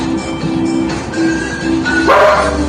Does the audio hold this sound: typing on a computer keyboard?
no